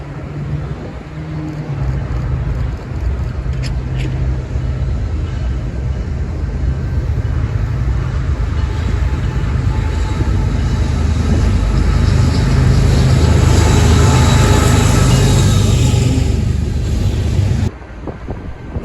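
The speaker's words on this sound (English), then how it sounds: "Another Kansas City Southern grain train." A Kansas City Southern grain train rolls past on the Houston terminal lines, a steady loud rumble of wheels and cars that swells over the passage and cuts off sharply near the end.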